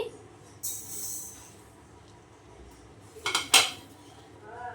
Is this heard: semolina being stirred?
yes